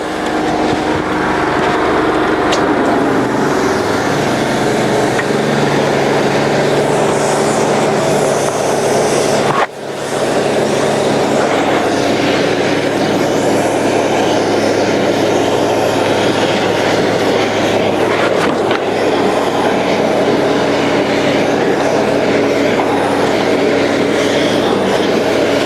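A cold water sewer jetter's engine runs at low throttle, producing a loud, steady, rumbling drone with hose hiss that continues unbroken apart from one brief dip, close by.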